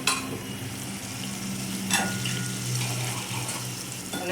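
Chopped vegetables sauté in a pan for vaghareli khichdi, a steady close sizzle with occasional stirring scrapes and clinks running throughout.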